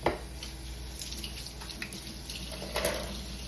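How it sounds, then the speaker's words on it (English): Kitchen tap running as hands are washed at the sink during cooking, a close steady water splash with small shifts in flow, brief and without talk. "Wash my hands."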